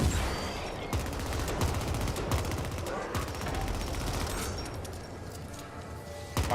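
Machine gun fire in the sci-fi shooter game The Ascent: rapid, sharp bursts of shots crackle in uneven clusters over a continuous noisy backdrop.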